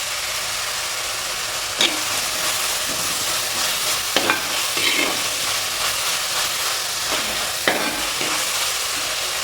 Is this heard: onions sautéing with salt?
yes